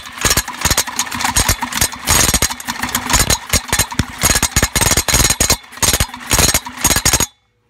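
A small engine runs roughly on fuel poured straight into its intake, sputtering and popping in uneven loud bursts with brief dropouts before cutting off abruptly near the end.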